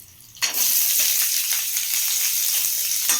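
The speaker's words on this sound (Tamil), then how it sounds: "நல்லா வதக்கி விட்டுக்கலாம்" Onions sautéing in a pan for brinjal chutney with garlic and tamarind, a loud steady sizzle and crackle that begins abruptly after a brief quiet moment and continues unbroken to the end, with no voices.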